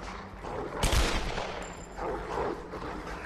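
A single gunshot in the video game Tomb Raider 2013, one sharp crack near the start followed by quieter rumbling game ambience.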